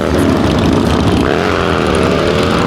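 Loud roaring engines close by, with a pitch rising as revs climb, like several motorcycles accelerating past at high volume.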